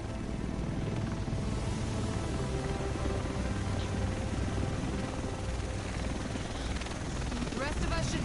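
A helicopter in Tom Clancy's The Division drones with a steady, loud rotor roar that fills the scene without letting up.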